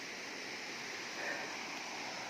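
A mountain river in the Sierra Madre rushes steadily, a constant broadband wash of flowing water with no pauses, moderately loud and close, with no voices over it.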